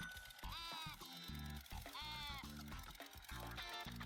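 Sheep in the video game Wizards 4 bleat in repeated wavering cries against game music, several bleats in a row at moderate loudness.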